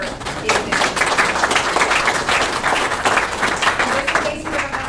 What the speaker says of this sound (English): So if we could give a round of applause for